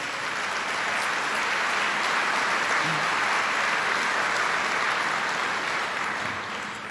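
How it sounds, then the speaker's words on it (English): A crowd at a governor's event in Syracuse on the New York State budget gives a round of applause: dense, continuous clapping that holds at an even level for about seven seconds. "Let's give them a round of applause."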